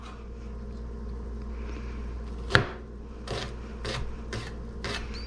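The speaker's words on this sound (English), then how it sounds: "We're gonna slice our shallot." A knife slices through a shallot on a board, making a sharp cut followed by four or five softer, evenly spaced strokes over a low, steady background hum.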